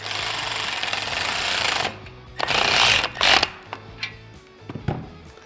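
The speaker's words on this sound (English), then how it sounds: "So for this light, this mounts with a 17mm nut. So we'll go ahead and tighten that up." Ratchet tightening a 17mm nut on a roof light mount of a Nissan Xterra, heard as loud close bursts of rapid clicking broken by short pauses and a few lighter clacks.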